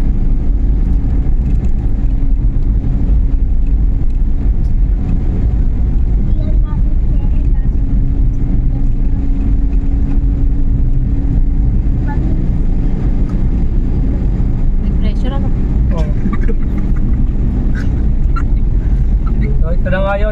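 A Suzuki Every Wagon DA64W engine runs at a steady 3,500 RPM on a bypass road, giving a loud, constant drone mixed with road and wind rumble throughout.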